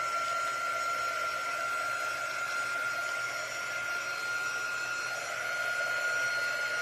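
Hair dryer drying freshly painted Christmas decor pieces, a steady close whooshing hum with a high whine held evenly throughout, no voices over it.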